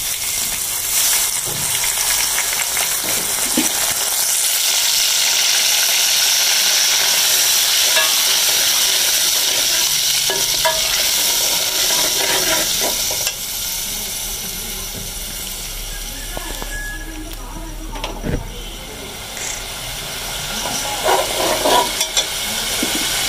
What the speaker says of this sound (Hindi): प्याज हमारी ब्राउन हो चुकी है, अब अदरक लहसुन का पेस्ट डालेंगे।